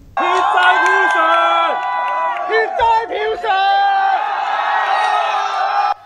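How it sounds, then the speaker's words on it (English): An ecstatic crowd outside Hong Kong election tallying centres cheers and chants loudly, a dense wall of voices that carries on without a break for about six seconds. "The crowd outside various election tallying centres in Hong Kong were ecstatic."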